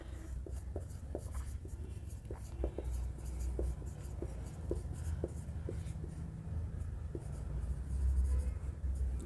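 Pen writing by hand on paper, a series of soft scratchy strokes and taps in an irregular rhythm, close and quiet over faint room noise.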